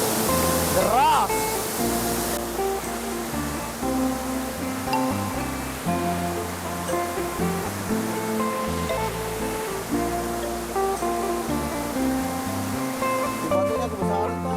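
Swift river water rushes continuously at a hidden forest campsite, a loud, steady broadband roar close by, with people talking over it.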